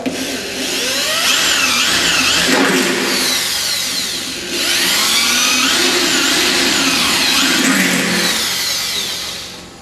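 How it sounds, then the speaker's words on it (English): A power drill with a 6mm bit whines and grinds steadily as it bores holes in a car fitting, close and loud, with a brief dip in pitch midway. "So we're going to drill these holes in here with a 6mm drill."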